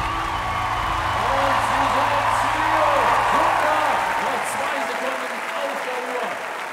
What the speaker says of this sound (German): Die Zuschauer toben